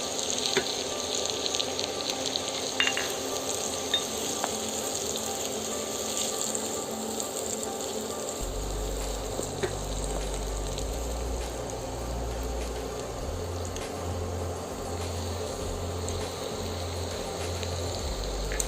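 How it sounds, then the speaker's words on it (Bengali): Chopped tomatoes hit hot spice paste in a pan while cooking a pabda fish curry, a steady broadband sizzle and hiss that continues throughout, with a low rumble joining partway. "এখন আমি টমেটো কুচিগুলো দিয়ে দিলাম।"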